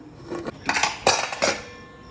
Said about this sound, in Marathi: आपण यावरती ठेवूया झाकण